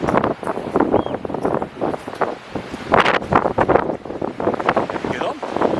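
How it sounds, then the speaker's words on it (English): Strong wind buffets a microphone on an empty, cold beach at Half Moon Bay, roaring in loud gusts and rumbling bursts throughout. "Very windy, very cold."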